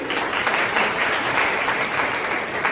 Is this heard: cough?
no